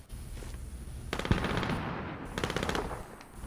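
Rapid automatic gunfire in a Call of Duty Warzone match, two dense bursts of clattering shots at moderate distance, separated by a short lull.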